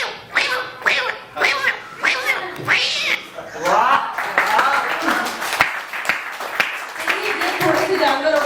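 A boy vocally imitates a cat fight, producing loud, strained yowls, growls and caterwauling cries in rapid bursts, rising and falling in pitch, with some clapping near the end.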